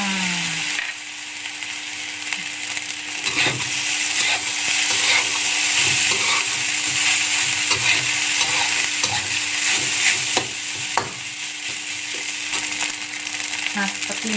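Green chili fried rice is stirred in a wok, giving a loud, continuous hiss of frying with repeated scraping and clanking of the spatula against the metal.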